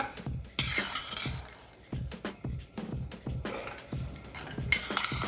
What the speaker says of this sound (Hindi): इसमें हम अभी चना जो भिगो के रखा था इसको हम डाल देंगे